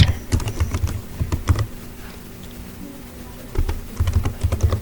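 Bursts of quick clicking keystrokes on a computer keyboard as a name and password are entered, close and clear, with a short pause between two runs of typing.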